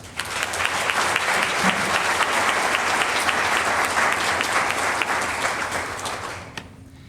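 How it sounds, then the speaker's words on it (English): Audience at a tourism awards ceremony claps steadily for about six seconds of dense, loud applause, then it fades out at the end. "give the honorees a nice round of applause"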